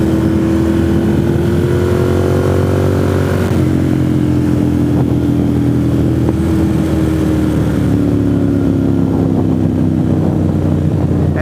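Sports cars, a large group of Porsches and Corvettes, pass by on a winding foothill road, their engines droning and shifting pitch steadily throughout as they go by close and loud.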